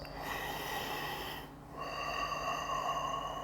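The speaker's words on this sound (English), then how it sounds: "Take a few deep breaths." Someone takes deep, audible breaths while recovering from core exercises during a yoga session. There are two long, breathy inhale-exhale cycles separated by a short pause, close and fairly soft.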